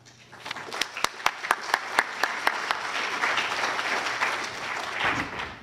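A conference audience breaks into applause to welcome a morning speaker, opening with a run of sharp separate claps that swell into a steady, dense wash of clapping filling the room.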